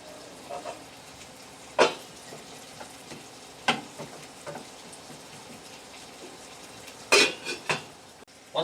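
Butter being stirred into rice in a pot, quiet soft scraping with a few sharp spoon-on-pot clinks spread across the stretch.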